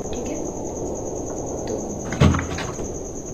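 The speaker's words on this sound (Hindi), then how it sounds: "अब इसको दरवाज़ा हम खोल लेते हैं, बंद कर लेते हैं" A door opening and closing in the horror video game Evil Nun, a soft creak and then one distinct thump near the end, heard over a steady high-pitched ambient whine.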